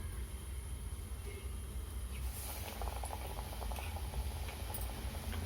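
Besan bonda batter bubbles in hot oil, a low steady frying hiss with soft bubbling crackles that thicken slightly midway, fairly faint and continuous.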